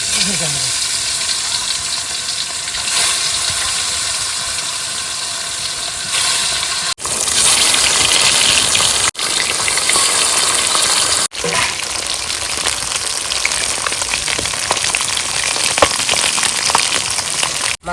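A large bhetki fish fries in hot oil in a village-style kitchen, giving a loud, dense, continuous sizzle and crackle throughout, with a few abrupt breaks.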